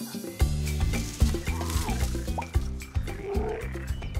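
Tree frogs croak in an animated storybook sound effect, a series of deep, rhythmic resonant croaks repeating roughly every half second, close and fairly loud over a soft jungle background.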